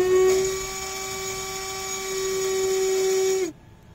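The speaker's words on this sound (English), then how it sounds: "let's do some RPM testing of the motor for its speed measurement." A small electric motor in a homemade electronics project spins at very high speed, producing a steady piercing whine that holds for over three seconds and then cuts off abruptly.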